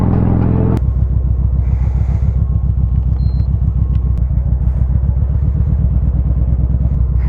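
A 2020 Harley-Davidson Fat Bob 114 motorcycle rumbles loud and close while riding, its deep, even, pulsing V-twin throb holding steady after a brief shift in tone at the start.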